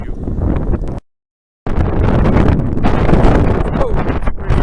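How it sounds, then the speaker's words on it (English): Strong seaside wind in Kenting, Taiwan, roars and buffets the microphone as a loud, constant rumble with a short silent break. "Oh, it's pretty windy."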